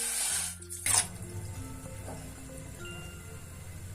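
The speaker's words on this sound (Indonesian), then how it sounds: "Pertama-tama kita masukkan airnya." About 300 ml of water pours into a cooking pot, a brief splashing gush that quickly settles into quiet trickling and faint kitchen noise.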